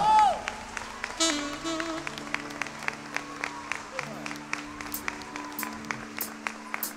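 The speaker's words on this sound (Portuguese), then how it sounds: "Vamos aplaudir ao Senhor!" Applause from a church congregation during a worship service, moderate clapping mixed with sustained music and organ-like tones, with sharp claps standing out rhythmically toward the end.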